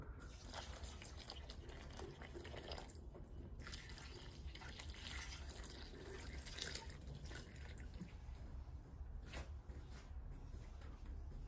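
Water, roughly a liter, pours into a cooking pot with a steady splashing, trickling wash that stays fairly faint and even throughout, with no talking.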